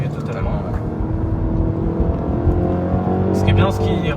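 A 2024 Mini Cooper S F66 engine hums steadily from inside the cabin, with an automatic rev-matching blip on a downshift near the end, all under continuous talking.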